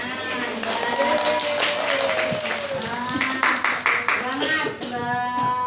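Several people clap their hands in bursts during a religious study session at an Islamic boarding school, while voices talk and call out over them, the claps fairly close and loudest near the middle.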